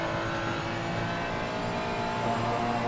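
Turbocharged Ferrari GT race car in a Silverstone endurance race, accelerating out of a corner with a continuous loud engine drone.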